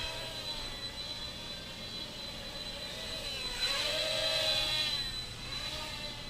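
Small Blade Nano QX mini quadcopter flying around a small indoor space, a steady high-pitched whine of tiny rotors that rises and bends in pitch as it spins and maneuvers, continuous and fairly close with no talk.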